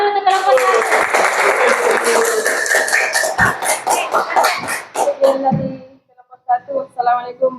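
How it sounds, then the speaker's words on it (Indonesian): A classroom of students clapping for a student group, fairly loud and close, with some voices mixed in, tapering into scattered claps and a short pause near the end. "Tepuk tangan dulu untuk kelompok 1."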